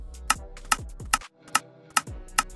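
Apex Legends bunny hopping at 135 beats per minute comes through as sharp, evenly spaced clicks or taps, about six in a short span with one brief pause, crisp and close over a low background.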